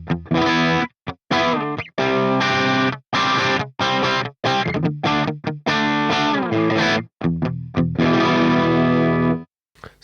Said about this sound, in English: here is my sound from the Laney amplifier